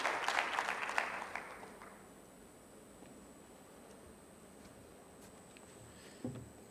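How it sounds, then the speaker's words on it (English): A short, fairly faint burst of audience applause welcoming a speaker at a health research and policy symposium, dying away within a couple of seconds into quiet room tone with a small sound near the end. "A round of applause as we welcome him."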